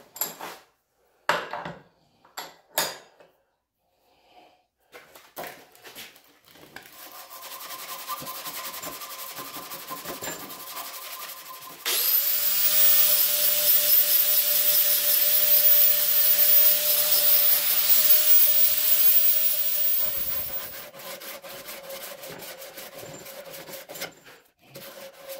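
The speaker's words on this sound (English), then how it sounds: "All that's left to do is to hit it with sandpaper and get it really, really good and polished up." A hammer head is hand-sanded with sandpaper, first in short scattered rubs, then a long steady raspy scrape under a faint whine before tapering off.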